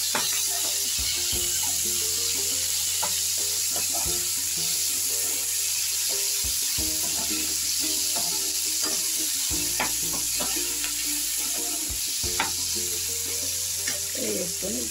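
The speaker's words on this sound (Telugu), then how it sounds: "టమాటా, పచ్చిమిర్చి, ఒక నిమిషం ఫ్రై చేసుకుందాం." Tomato and green chillies frying for a homemade vegetable biryani, with a steady close sizzle broken by repeated stirring scrapes in the pan and occasional running-water sounds nearby.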